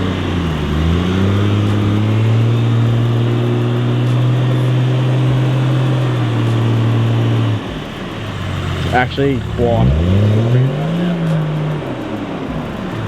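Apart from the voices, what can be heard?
Toyota troop carrier engine on boost off-road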